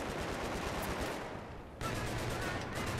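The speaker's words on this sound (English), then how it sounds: "someone's shooting at me" Dense gunfire rattles through a Battlefield 3 firefight on the Strike at Karkand map, a steady wash of shots that dips briefly then resumes at full loudness, with no speech over it.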